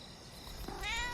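A short cat meow from the 2016 film Hush rises near the end over quiet, hissy room tone.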